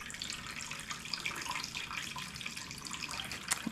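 Star San sanitizer runs from a fermenter spigot into a bowl during home brewing of a German Hefeweizen kit, a continuous close splashing trickle with a faint drip-like spike near the end.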